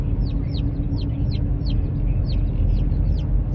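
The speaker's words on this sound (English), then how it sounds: "Are they cheaping, Chase?" Black Copper Marans chicks cheep steadily in a crate, a run of high, repeated peeps about three or four per second over a constant low vehicle hum.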